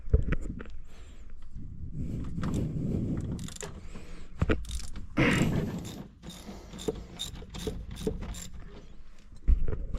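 A ratchet wrench clicks in quick irregular bursts while taking a nut out, close-up metallic ratcheting mixed with scraping and handling noise, with no talk.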